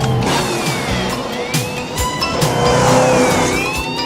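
A gray BMW speeds through a police chase, its engine roaring and revving steadily near at hand, with tire noise and a continuous loud rush of motion.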